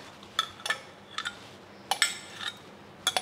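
A metal spoon clinks sharply against a bowl as sauce is added and stirred into Asian-style chicken wings. The taps are quiet, sparse and irregular, coming in small clusters.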